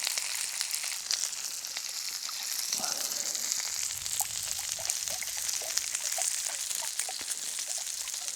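Potatoes fry in a pan with a continuous bright sizzle and small crackles and pops scattered throughout, no voices.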